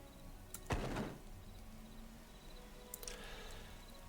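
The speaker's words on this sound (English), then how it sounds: "You hear the noise, you see how it swings open, how it slams shut" A wooden door in the Hytale video game swings open with a creak and then slams shut in one loud thud, followed later by a fainter rattle of its wiggling handles, with no talk.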